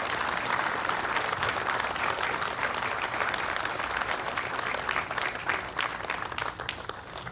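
Race drivers at a UTV/EMC/4400 short course drivers' meeting clap for the race operations crew, a loud, dense, continuous round of applause that tapers slightly toward the end.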